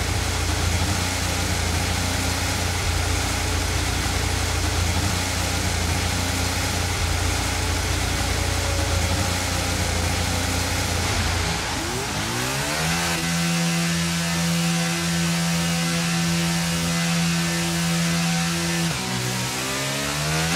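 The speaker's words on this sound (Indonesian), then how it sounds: "kalian bisa mendengarkan suaranya kayak gimana ya untuk mobil Renault ini" Renault Formula 1 car engine in the video game F1 22, a loud steady engine roar that drops abruptly partway through to a lower, even idle-like hum with clear tonal harmonics.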